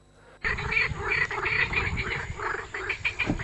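A dense chorus of frogs croaking continuously, many overlapping calls with a steady, pulsing rhythm, fairly loud and close.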